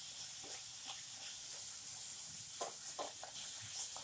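Spices fry with tomato, onion, garlic and ginger for a dum aloo gravy, giving a steady close sizzle with scattered stirring scrapes and pops.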